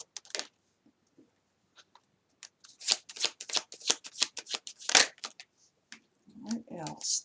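Tarot cards being shuffled by hand in a series of quick, crisp riffling bursts with brief pauses between, close and clear, ending with a low murmur of voice.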